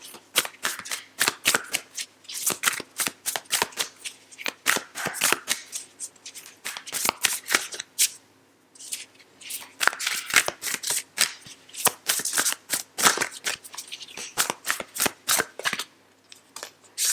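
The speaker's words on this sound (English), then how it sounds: "Let's get this overarching tarot card out, Aquarius." Tarot cards shuffled by hand in bursts of rapid riffling flicks, close and crisp, with a brief pause midway before the shuffling resumes; no talking.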